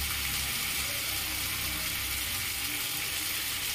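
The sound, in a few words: water being poured into a pan of vegetarian curry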